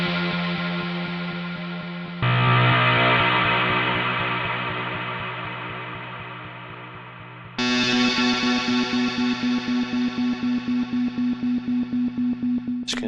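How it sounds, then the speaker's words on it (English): Synthesizer sound sent through an effects bus with a huge reverb and delay: three long sustained chords, the last one pulsing rhythmically, each washing into a broad reverb tail, loud with no talking. "Let's go onto the reverb and let's add in some reverb. Let's make it really quite huge"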